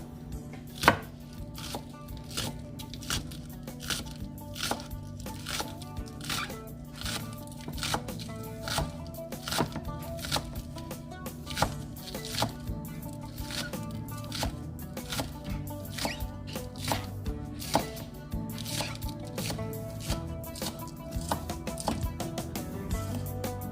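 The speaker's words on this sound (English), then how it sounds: "we're going to use about 4 stalks of the green onions and cut them up." Knife chopping about four stalks of green onions on a cutting board while making chicken and sausage gumbo, a steady run of close, crisp taps that continues throughout with no talking.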